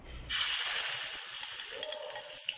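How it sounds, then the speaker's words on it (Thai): Chili paste hitting about two tablespoons of oil over low heat in a wok for northern Thai khanom jeen nam ngiao, with a sudden steady broadband hiss and sizzle that keeps going close up, with no talking. "ใส่น้ำมันลงไป ประมาณสักสองช้อนโต๊ะพอนะคะ อ่ะเราจะใส่ เอาน้ำพริกนะลงไปผัดนะคะ ผัดน้ำพริกให้หอมก่อนนะคะ"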